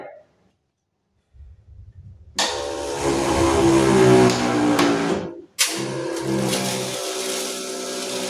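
A double-motor battery-powered charging spray pump with three nozzles hisses into loud, steady spraying after a quiet start and a low hum, cuts out briefly, then resumes spraying at full pressure.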